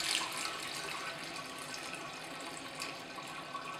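Tap water runs steadily into a jar of sprouts being rinsed at home, a continuous splashing hiss that holds at an even level throughout with no talking.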